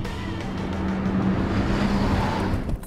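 A Nissan 300ZX twin turbo sports car pushed hard through a turn, its engine roaring steadily under load, close and loud, then cutting off abruptly at the end.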